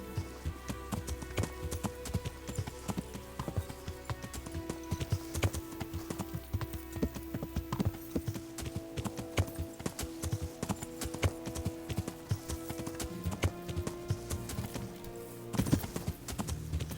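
Steady hoof clip-clop of a horse walking in the video game Kingdom Come: Deliverance, a continuous rhythmic clatter of hooves over a low background music bed.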